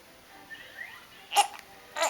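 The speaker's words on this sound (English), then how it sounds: "Hiccup." A baby hiccups twice, two short, sharp bursts over quiet room tone with faint soft breathing sounds before them.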